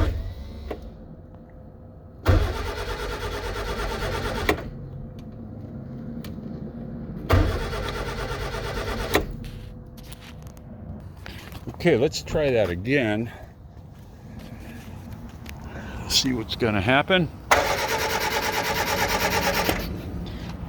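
A 1956 English Ford Anglia's engine cranks repeatedly without catching. Several loud bursts of starter whirring are separated by pauses, with close talk in between.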